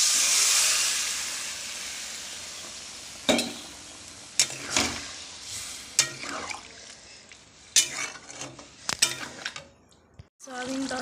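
Soybean curry sautéed in a pan, with a steady frying hiss under scattered scraping and clanking stir strokes that come in irregular bursts, close by and moderately loud. No one talks.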